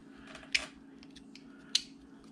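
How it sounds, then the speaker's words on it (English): A knife tip cuts gouge splinters out of a block of carved wood: two short, crisp snicks about a second apart, quiet and close against a low, steady room hum. "I like to cut those out with my knife tip"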